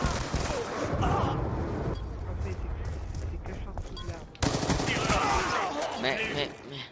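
Loud, sustained video game gunfire in French-language play, dense automatic bursts that dip briefly then resume close and heavy, with voices talking over the shooting.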